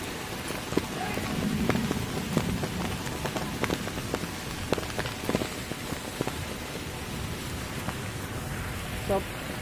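Heavy rain pours steadily onto surfaces, a dense continuous patter with scattered louder drips close by, lasting throughout while voices murmur faintly underneath.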